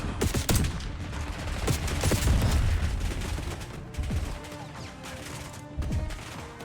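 Rapid gunfire and explosions from a Call of Duty Black Ops 6 battle mission, dense bursts of automatic weapons with heavy booms peaking midway, then sporadic shots and blasts continuing near and loud without talk.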